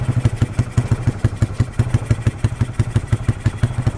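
Upgraded Yamaha Nouvo motorcycle engine idling low, a close, steady chugging beat of evenly spaced pulses throughout, no voices.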